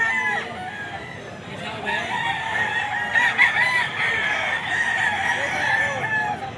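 A stag rooster crows repeatedly at an outdoor pet market, loud and close over a constant murmur of crowd noise and other fowl clucking nearby.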